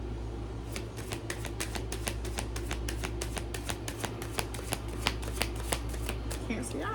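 Tarot cards being shuffled in a rapid run of crisp riffling flicks, close and steady throughout, with a low hum in the background.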